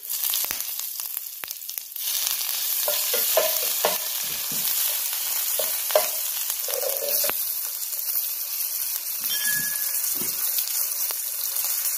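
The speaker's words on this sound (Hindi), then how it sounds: "इसमें हम अब जीरा डालेंगे, हल्दी, कड़ी पत्ता," Cumin, turmeric, curry leaves and ginger paste sizzle loudly in hot oil for vada pav, with a steady frying crackle and intermittent scraping of a spoon stirring the pan; no talking.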